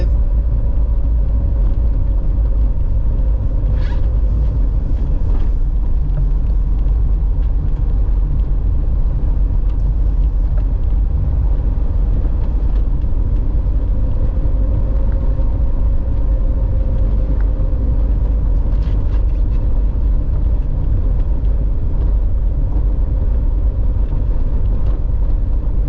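A car drives along a country road in Manchester, Jamaica, heading down toward Alligator Pond, its steady low road rumble and engine drone running continuously throughout with no talk.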